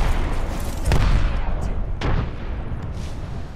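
A frag grenade goes off in a shooter video game, giving a deep booming blast with a sharp crack, followed by a second thump, over steady dense game noise and rumble.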